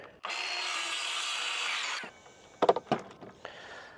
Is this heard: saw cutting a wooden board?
yes